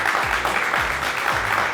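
Audience at Astara Youth House clapping for themselves, a dense, steady burst of applause filling the whole moment at close range with no pauses.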